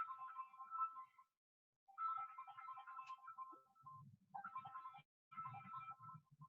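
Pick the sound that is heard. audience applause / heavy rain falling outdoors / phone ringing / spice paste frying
phone ringing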